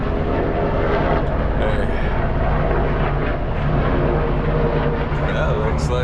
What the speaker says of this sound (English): here comes a helicopter, wouldn't you know it